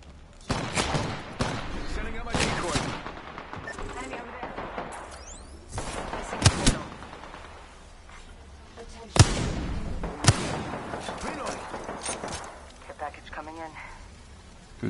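Wingman pistol gunfire in the game Apex Legends sounds as loud, spaced single cracks with other gunshot bursts and impacts, while a player talks throughout.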